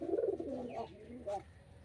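Pigeons coo close by in a short burst of low, throaty, rolling calls, with a second softer coo following a moment later against a quiet background.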